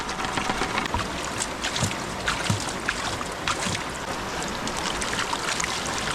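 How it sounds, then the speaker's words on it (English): Gravel and water from a gold sluice clean-up pour into a gold pan outdoors, a steady gritty rushing wash with scattered clinks of stones, moderately close and continuous without talk. "You just want to pour everything in."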